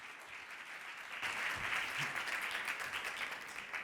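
An audience claps steadily to welcome a speaker at a real estate event on economic turbulence and financing, a broad, dense wash of applause that swells slightly after the first second and holds.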